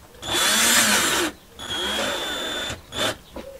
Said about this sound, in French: je vais maintenant les visser complètement, enfin pas complètement, jusqu'à la butée